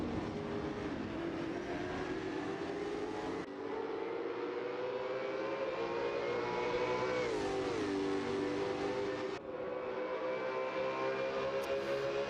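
V8 race cars in the Assetto Corsa sim racing game, engines howling at high revs with sharp gear-change dips and rising pitch sweeps, a continuous droning roar.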